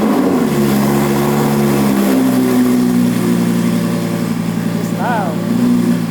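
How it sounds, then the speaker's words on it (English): Audi R8 cold start with Capristo exhaust, a loud, steady high-idle drone with harmonic tones shifting down slightly, close by; a voice briefly cuts in near the end. "it's gonna be a cold start with the Capristo exhaust"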